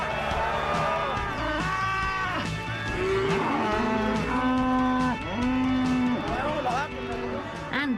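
Cattle mooing repeatedly, loud and close, as the herd is driven into a corral on an Argentine estancia, with overlapping calls from several animals over a steady background of movement.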